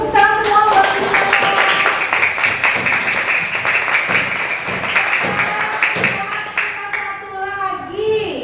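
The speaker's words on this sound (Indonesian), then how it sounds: "tepuk tangan semua buat Vino." A classroom of children claps for a pupil in a quick burst of rapid hand claps, with young voices calling out and chattering over the clapping throughout.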